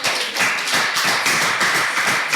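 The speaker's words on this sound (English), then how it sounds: "Again, a round of applause for them." Debate audience at a Nigerian youth debate competition clapping in a loud, continuous round of applause with no talk over it.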